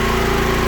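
Two Predator 9500 generators run in parallel, powering a food trailer, with a steady, loud, droning engine hum and a fast pulsing rhythm throughout, no voices.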